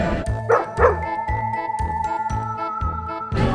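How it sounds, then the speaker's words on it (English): A dog barks several times in quick succession at a Halloween theme-park party, the short, close woofs and yips mixed with a light jingling tinkle. "Did I hear Mickey has a pet dog"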